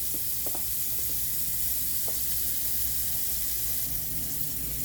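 Liver frying in a pan for smothered liver and onions, a dense continuous sizzle filling the whole stretch with a few faint clinks and pops near the start, close and steady with no talk.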